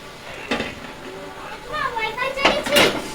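A spoon stirs raw onions into simmering lentil dal with potatoes and green chillies in a cooking pot, producing a few close metallic scrapes and clinks against the pot, with a voice talking faintly in the background.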